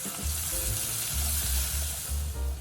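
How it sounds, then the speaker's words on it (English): Sliced carrot and diced onion saute with sifted flour in a pan for a creamy salmon miso stew, giving a continuous soft sizzle with a low, uneven stirring rumble underneath. "Sift in the flour and saute."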